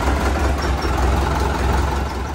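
A 2018 Sonalika tractor engine, freshly rebuilt, idles steadily with a loud, low, even rumble that stays constant throughout the short stretch, with no voices over it.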